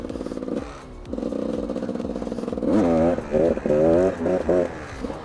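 A GasGas 300 two-stroke enduro motorcycle, left unridden for a year on year-old fuel and with a sticking power valve, idles and then revs in short uneven bursts, loud and close, with talk over it.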